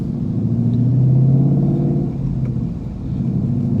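A 2018-19 Ford Mustang GT V8 with manual gearbox, headers and Corsa exhaust cruising, a deep steady engine drone heard from inside the car, easing off and picking back up briefly, with no talk.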